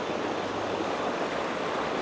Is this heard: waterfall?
yes